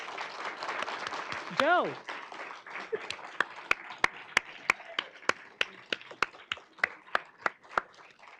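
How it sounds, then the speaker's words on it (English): An awards-ceremony audience claps for the staff who worked on the awards. The applause starts thin under a voice, then turns into sparse, slow, loud individual claps that land one after another in a steady rhythm. "please stand up, and we want to give you a round of applause."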